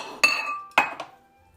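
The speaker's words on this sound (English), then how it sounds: "So you just scoop it out with a spoon." A spoon scoops sesame butter out of a glass jar, giving two sharp clinks of metal against glass followed by a softer third tap, close and clear with no talking.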